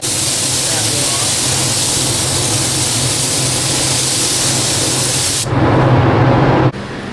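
Spray gun laying down a sealer coat in a paint booth during a Duramax truck restoration, a steady loud broadband hiss for about five seconds, then a brief louder burst before easing off.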